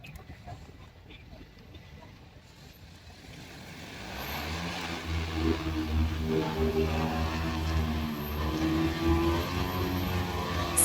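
An X4 10ZS agricultural drone runs a test spray, its motors and propellers building from quiet into a loud, steady whirring drone with a pulsing tonal hum that stays close and sustained.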